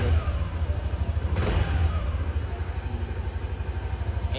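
A 2023 Yamaha NVX 155 scooter engine runs with a steady low throbbing beat, close and fairly loud, with one brief rise in pitch as it revs before settling back to a constant drone.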